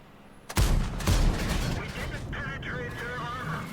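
Heavy artillery booms in a tank video game, a loud sudden blast followed by a second rumbling impact, with someone talking over the game sounds.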